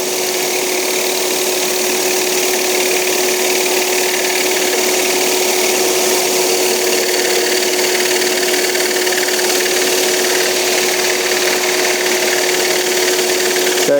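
A power saw blade cuts a small wooden bird shape for an automaton toy, a steady, continuous motor whine with a constant tone and no talk over it.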